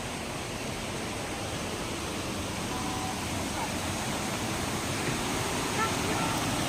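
River water flows in a steady, broadband rush beside a riverside campsite, close and unbroken for several seconds with no clear voices over it.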